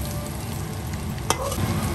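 Oil sizzles and crackles steadily as cashews fry in a pan, one sharper pop partway through, close and moderately loud.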